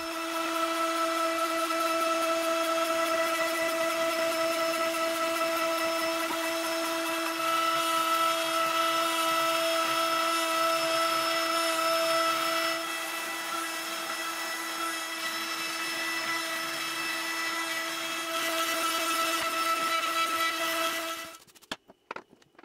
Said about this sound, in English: the CNC is making short work of that as well